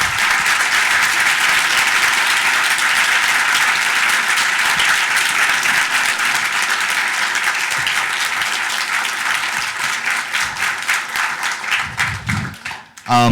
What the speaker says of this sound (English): Let's give a round of applause for our competitors, please.